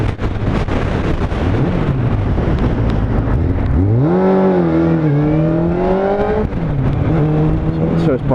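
A motorbike engine revs close by, climbing steadily in pitch through the middle and then settling back to a rough idle, with wind buffeting the microphone throughout.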